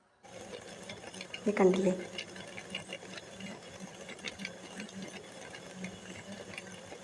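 A mixer blender grinds bush oranges into juice, a whirring motor burst that peaks early and then settles into a steady buzzing churn, with a brief spoken remark near the start.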